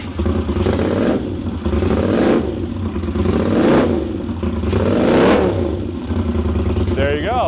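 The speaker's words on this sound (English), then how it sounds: "Give it a couple revs, would you?" A motorcycle with a short exhaust and Moto Gadget ignition revs up in a rising, rough, close-up engine roar over a few pulses, with people talking over it.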